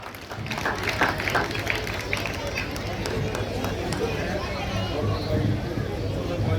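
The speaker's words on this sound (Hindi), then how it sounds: "जोरदार तालियों के स्वागत विनोद बबली जी के" Crowd applause welcomes a cabinet minister at a village gathering for the Viksit Bharat Sankalp Yatra, a steady dense wash of clapping and murmuring voices lasting several seconds at moderate distance.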